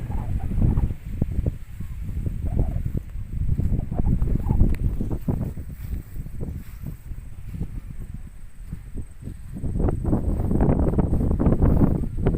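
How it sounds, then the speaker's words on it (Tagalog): Strong wind buffets the microphone in continuous low rumbling gusts, swelling and easing throughout with no other clear sounds. "Ayan, mahangin."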